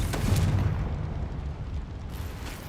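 A Confringo blasting spell explodes in Hogwarts Legacy, a loud booming burst with a rumbling tail that fades over a couple of seconds, with no voices.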